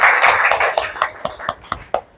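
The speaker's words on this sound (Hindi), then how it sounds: "जोर से ताली बजाएंगे" A church congregation at a Sunday service claps loudly, a dense burst of applause that thins into a handful of separate, sharp claps before fading out.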